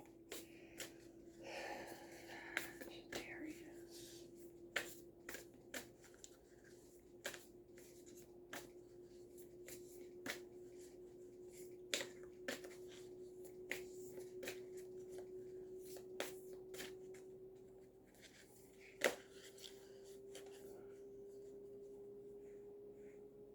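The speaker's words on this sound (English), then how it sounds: "So let's shuffle." Oracle cards being shuffled by hand, soft papery riffles and taps repeating irregularly at close range, quiet against a faint steady hum in the background.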